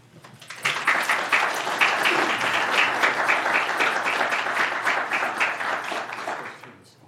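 Audience applause welcoming a speaker to the stage, a steady, full round of clapping that swells quickly, holds for several seconds and tapers off at the end.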